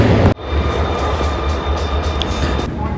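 A KTX high-speed train passes on tracks in Korea, giving a sustained loud rushing rumble with a faint high whine, close by and with no talk.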